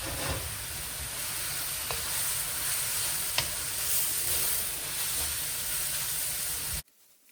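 Onions sizzle and crackle steadily as they are stir-fried with pasta in a hot pan, with occasional stirring clicks, before the sound cuts off abruptly near the end.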